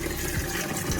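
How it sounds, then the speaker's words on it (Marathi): Water pours steadily into a drum on a farm, a continuous close splashing rush at moderate level with no pauses. "चला आपण आता ड्रम भरूया."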